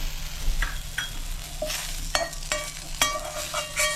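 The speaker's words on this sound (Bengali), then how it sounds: "এই জন্য এটা আলাদা করে আমি ভেজে দেখাচ্ছি আপনাদের" Garlic frying in hot oil in a pan for Mumbai-style vada pav, a steady close sizzle broken by sharp clinks and scrapes as it is stirred.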